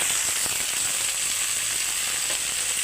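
Potatoes frying in a pan with green chillies and salt while cooking a silver carp fish curry, giving a steady, close sizzle with fine crackle throughout and no talk.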